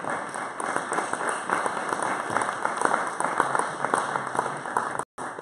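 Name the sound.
round of applause at briefing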